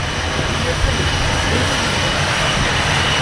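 A constant loud drone of a propeller plane's engine fills the cabin, a steady roar with faint voices underneath.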